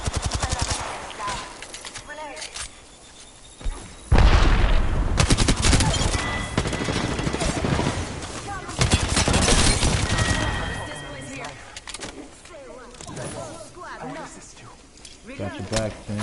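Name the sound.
gunfire in the video game Fallout 4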